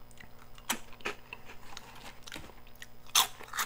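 Cheetos snacks bitten and crunched up close, with several sharp, crisp crunches spread across a few seconds in a quiet room and a loud bite near the end.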